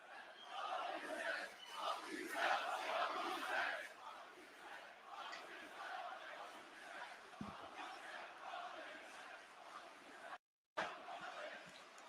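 Wrestling crowd at a live WWE Raw event chanting loudly and continuously in a large arena, sustained roar of many voices with a brief cut near the end.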